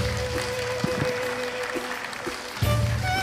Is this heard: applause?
yes